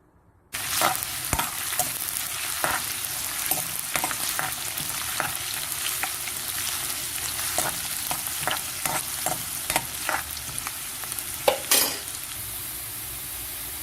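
Ginger, curry leaves, green chillies and dried red chillies sizzle steadily in hot oil after mustard seeds have popped, with a utensil scraping and stirring the pan in repeated strokes, close and continuous with no talking.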